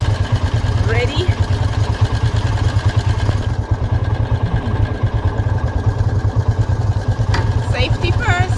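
A moto taxi motorcycle engine idles and putters in Kigali, a loud, close, steady low throb running throughout while people talk nearby.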